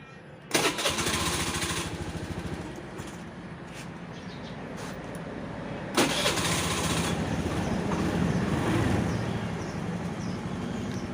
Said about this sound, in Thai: อันนี้ผมได้สตาร์ทรถแล้วนะครับ